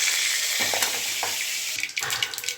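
Mustard seeds crackle and spit in hot oil in a kadai for a Tamil drumstick stir-fry, a steady close sizzle broken by a few sharp pops and small spatters.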